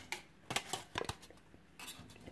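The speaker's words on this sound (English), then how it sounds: "you pour on the boiling water and you stir for 15 to 30 seconds" Spoon stirring Quaker Oat So Simple golden syrup porridge with boiling water in a pot, giving a few quick, light clinks and scrapes close by with brief pauses between them.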